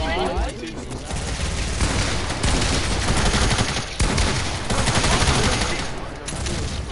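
Heavy gunfire in a shooter video game: sustained bursts of rapid shots with loud booming moments and short breaks, all close and dense, with voices mixed in underneath.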